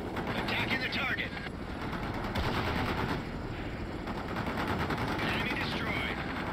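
Bursts of automatic gunfire and explosions crackle continuously in the real-time strategy game World in Conflict, dense and loud throughout, with radio-style voices talking over the battle.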